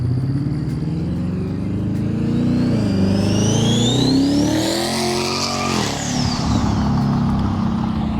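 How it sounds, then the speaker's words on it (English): Twin-turbo 5.0 Coyote Ford Mustang approaching and passing close by, engine note rising loudly with turbo whine climbing as it nears, then the pitch dropping as it pulls away and fades. "what it sounds like coming towards me with those big turbos"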